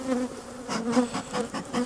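Honey bees buzz steadily around hive frames during colony work, a close, continuous drone with brief louder swells as individual bees pass near.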